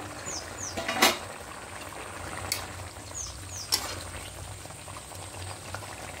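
Chicken curry simmers in an uncovered pot as the gravy reduces, a low steady bubbling with a few louder pops and brief splutters, no voices.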